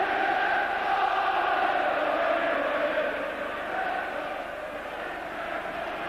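Football stadium crowd at a Liverpool–Roma UEFA Cup match roars steadily in a dense, sustained wash, easing slightly toward the end, with no distinct voices standing out.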